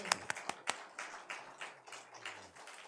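A church congregation at a New Year's Eve service in Ulsan applauds: a handful of sharp claps at first, then a soft, steady patter of many hands at moderate distance, fairly faint overall.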